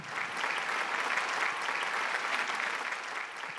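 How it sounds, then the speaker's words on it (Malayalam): A TV studio audience claps in a steady, even wash of applause that is fairly soft and distant, with no voices over it. "ഒരു നല്ല കൈയടി കൊടുത്തേ."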